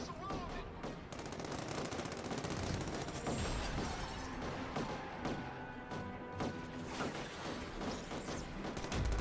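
Heavy gunfire in The Amazing Spider-Man game, rapid machine-gun bursts and shots mixed with crashing and shattering impacts, dense and continuous, with voices talking over the clatter.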